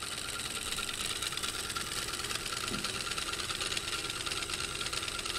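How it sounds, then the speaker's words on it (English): A homemade DC motor running steadily, a continuous whirring hum with fine rattling vibration and no change in speed, close and moderately loud with no talk over it. "DC motor cranks."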